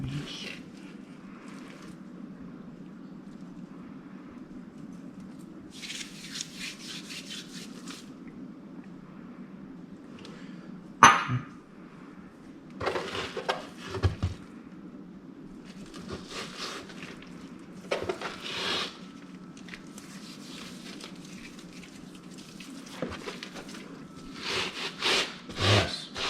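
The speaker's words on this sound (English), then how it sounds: "Rub it down. Push your beautiful seasonings right into there." Hands rub seasoning into a pork butt, soft scraping and rubbing strokes in irregular bursts over a low steady background, close and moderately quiet, with one sharp knock partway through.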